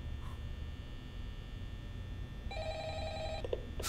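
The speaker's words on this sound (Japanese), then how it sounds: "今夜も鳴り響く上司からの電話。" A telephone rings in the video game Five Nights at Freddy's, one short electronic trilling burst over a low steady hum, with no talking.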